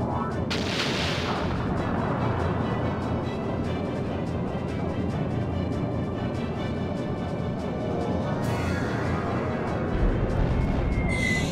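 The Moonstone Cannon fires in the video game Skies of Arcadia, a dense, loud, sustained roar of booming blasts and rumbling that fills the whole stretch, with a brief bright burst near the start.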